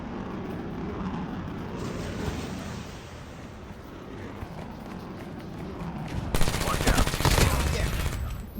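A jet flying low in the mobile shooter game Call of Duty Mobile, a steady whooshing drone under bursts of gunfire, ending in a loud rapid volley of shots.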